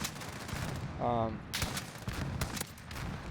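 A loud gunshot from an RYTEC AMR rifle loaded with explosive rounds in Call of Duty: Modern Warfare, followed by a few sharper cracks and game noise, heard up close.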